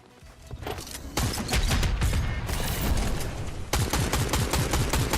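Gunfire in Fortnite, a dense loud barrage of rapid shots and impacts that runs almost continuously after a short lead-in, with a brief gap before the firing resumes.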